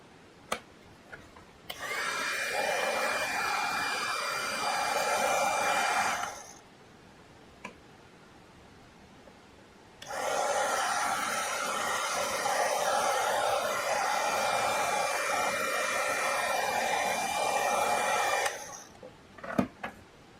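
A heat gun melts embossing powder on a craft piece, blowing with a steady, loud whooshing hiss. It runs for about five seconds, cuts out for a few seconds of quiet, then blows again for about eight seconds.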